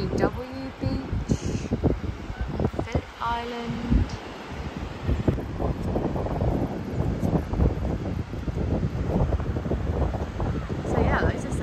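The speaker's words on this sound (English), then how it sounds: "it's very windy, I hope you can hear" Strong wind buffets the microphone on a surf beach at Phillip Island, Australia, a loud continuous roar with gusting rumble throughout, while someone talks over it near the start.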